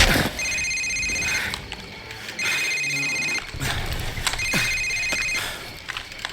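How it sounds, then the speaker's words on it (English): A cell phone in Call of Duty 4 rings in repeated electronic trilling bursts, three evenly spaced rings, each about a second long, set against a busy background of ambient noise and thuds. "until his phone rings."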